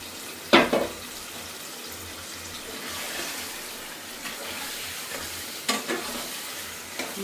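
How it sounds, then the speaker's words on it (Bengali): Local country chicken with potato being stirred and fried in spices, a sizzling pan with scraping spatula strokes, a sharp clatter near the start and more scrapes later, close up with no talk. "তো মশলার মধ্যে এখন মাংসগুলো কষিয়ে দিচ্ছি, দেশি মুরগ, সাথে একটা আলু দিয়েছি"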